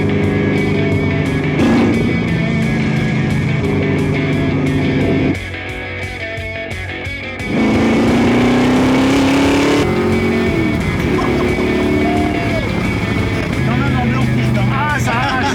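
A 1966 Ford Mustang coupé engine revs loud and near, rising and falling in long pulls. There is a brief quieter lull midway, then a fresh climbing rev that echoes through a village.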